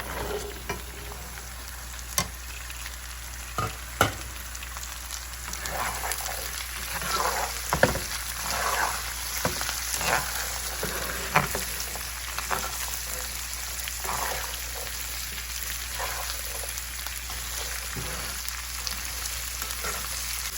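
Long beans stir-fried in a pan give a steady crackling sizzle throughout, with repeated sharp scrapes and clacks of stirring and no voices.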